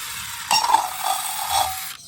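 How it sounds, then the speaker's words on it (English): A jar lid being drilled through for a culture setup, a steady grinding whine that starts abruptly and runs for about a second and a half at close range, with no talk. "just drill a hole in it."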